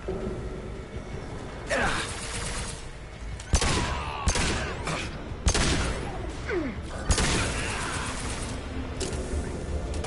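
Pistol shots in Mass Effect 2 crack out singly at irregular intervals amid mechanical clanks and combat noise, sharp and fairly close over a busy background.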